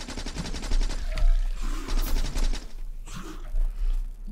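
Gunfire from turrets in Factorio, a steady rapid rattle of automatic shots over a busy mechanical background, fairly loud and continuous with no voices.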